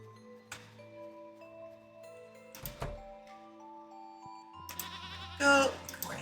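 Goat bleating in Stardew Valley, a short nasal bleat heard clearly among a soft game music bed, with a few clicks and a brighter burst of farm sounds near the end.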